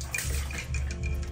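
Water pours and splashes over a pet dog during a bath at home, a soft, steady gushing with a few gentle surges, close but fairly quiet, no voices.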